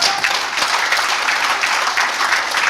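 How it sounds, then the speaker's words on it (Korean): Audience applause at a book launch gathering, steady dense clapping from a crowd filling the room, sustained and fairly loud throughout. "여러분 좀 격려의 박수라고."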